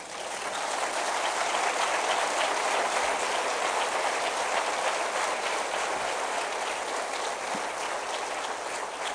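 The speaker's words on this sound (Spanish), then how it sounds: "Denle un aplauso al Señor." A church congregation claps for the Lord during a sermon, producing a dense, continuous roar of applause that holds steady and loud for several seconds without speech.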